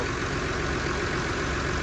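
An Oliver 1755 tractor engine idles after sitting through winter, a steady close rumble with a dense, continuous low-end throb and no pauses or speech.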